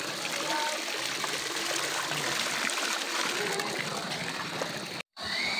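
Hot spring water flows steadily at a resort in Irosin, Sorsogon, a broad continuous rush and trickle close by, unbroken until a brief dropout near the end.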